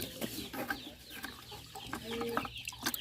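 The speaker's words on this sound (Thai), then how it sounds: "นี่ไก่น้อย นะคะ" Chickens clucking nearby in a rural Thai village setting, a busy run of short, irregular clucks and squawks over light background noise.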